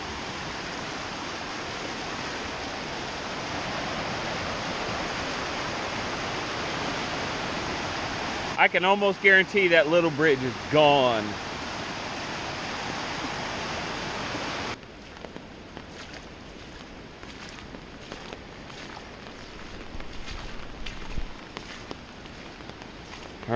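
Swollen creek in Southwest Ohio, running 8 or 9 feet above its usual level in a flood, roars as a steady, loud broadband rush. Someone talks briefly partway through, and the roar drops lower and steadier near the end.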